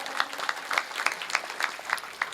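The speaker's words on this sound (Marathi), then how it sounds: "जोरात टाळ्या वाजवा एकदा." Applause from a kirtan audience after a call to clap loudly for the speaker, a steady patter of many hands at moderate distance with no talking over it.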